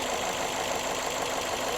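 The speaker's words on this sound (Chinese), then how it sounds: "你们听这一台发动机的响声" A damaged car engine running with an abnormal knock, a close, continuous rough idle with a rapid, tractor-like clatter throughout and no talk.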